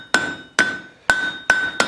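A hammer forges a hot steel bolt-jaw tong jaw on an anvil with five evenly spaced, sharp ringing blows, each followed by a short metallic decay. No one speaks.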